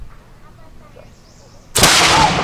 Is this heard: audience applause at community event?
no